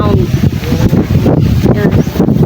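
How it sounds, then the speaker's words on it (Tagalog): Strong wind blowing around a residential compound, roaring and buffeting the microphone in loud gusty surges with rustling and flapping, continuous and close. "Lakas ang hangin."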